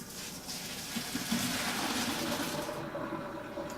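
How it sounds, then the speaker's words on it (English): Pot of pasta cooking water for mac and cheese poured off through a drain, a steady rushing splash of running water lasting a few seconds, close and fairly loud. "drain the pasta."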